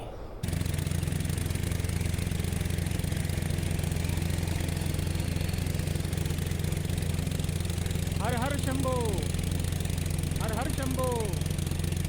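A boat engine hums steadily on the Narmada river near Omkareshwar temple, a constant low drone throughout, with voices briefly rising over it near the end.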